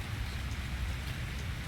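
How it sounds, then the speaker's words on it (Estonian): Steady rain falling outdoors in São Paulo, Brazil, a soft continuous hiss of drops at a low, even level with no voices. "Puu alt väljas sajab edasi."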